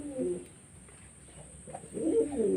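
Pigeons cooing nearby in a loft where a young pigeon is being vaccinated: two low, throaty coo bursts, one at the start and a louder one at the end, with quiet between.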